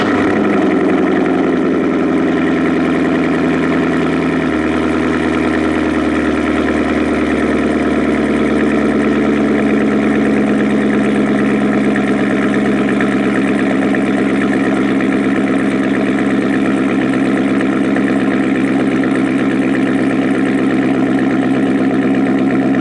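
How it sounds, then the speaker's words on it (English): A Corvette C7 fitted with an AWE exhaust cold-starts and holds a loud, steady, rumbling high idle throughout, with no voices over it. "Here's an AWE cold start."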